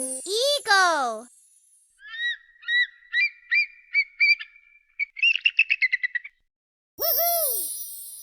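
Cartoonish bird calls from a bird puzzle video game with an eagle: swooping squawks, a series of short rhythmic honking chirps, a rapid trill, then another rising squawk, loud and close.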